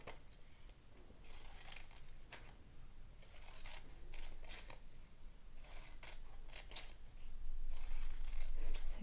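Scissors cutting paper for a unicorn craft, a run of crisp snipping and slicing strokes that come in bursts, close and fairly quiet, with no talk.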